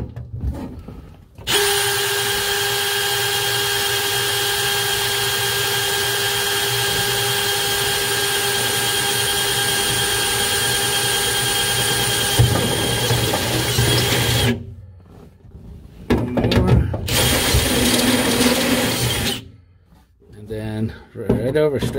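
A power drill bores seat belt mounting holes in a Chevy 3100, running in a long steady whine for about thirteen seconds, then in shorter close bursts.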